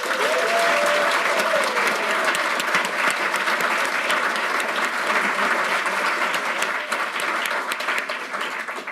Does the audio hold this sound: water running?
no